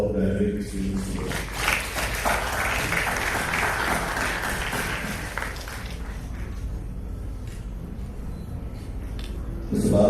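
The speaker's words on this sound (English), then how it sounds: "a big round of applause and congratulations for all the graduating students here" Audience at a college graduation ceremony applauding the graduating students, steady mid-level clapping that lasts several seconds before thinning out, with a voice returning at the very end.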